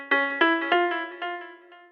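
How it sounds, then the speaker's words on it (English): The Transistor Radio Piano synth preset in Logic Pro X plays a short descending run of plucked notes, each with a slightly thin, boxy, radio-filtered timbre, fading softly. "I found this called Transistor Radio Piano"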